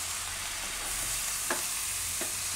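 Curd being stirred into a hot pan for dahi pava makes a continuous soft sizzling hiss, with a couple of brief scraping stirs, close by and without speech.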